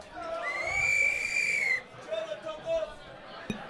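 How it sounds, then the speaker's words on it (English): A sharp, loud whistle rises into a long, steady high note that lasts most of two seconds, with a quieter short whistle following amid outdoor crowd hubbub at a rugby league Magic Round event in Brisbane. "Can I get a whistle?"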